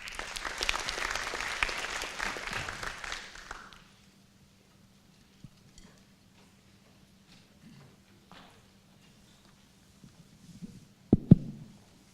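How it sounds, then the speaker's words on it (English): Audience applause after a charity talk, loud and dense for about four seconds, then it stops abruptly. Quiet room noise and a faint hum follow, with a few scattered thumps near the end. "So why don't we give them a big round of applause."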